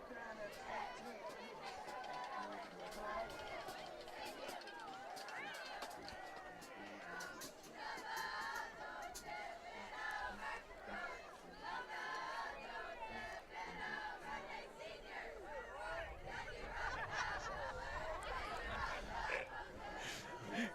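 Cheerleaders chanting at a high school football game, Ellwood City at Neshannock, their rhythmic shouted cheers blending with crowd chatter, fairly distant and continuous.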